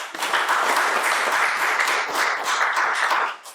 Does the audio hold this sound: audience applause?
yes